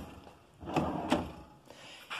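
A regular cabinet drawer in American-made kitchen cabinetry slides open or shut in a couple of soft wooden knocks and rumbles, fairly quiet and alone in a room.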